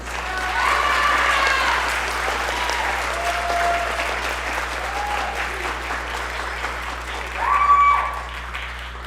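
A round of audience applause at a school concert featuring a jazz band and orchestras, steady clapping throughout with a louder swell near the end and faint tones over a low hum.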